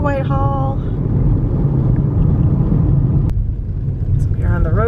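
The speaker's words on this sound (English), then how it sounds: "we are on the road driving up to Mount Battie, to the summit" A car climbing the road up Mount Battie in Camden, Maine, giving a steady, close engine and road rumble throughout while a person talks over it at the start and end.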